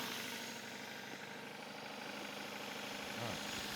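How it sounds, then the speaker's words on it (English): A repaired vehicle engine idles with a steady low rumble, continuous and fairly faint throughout. "engine is actually fixed"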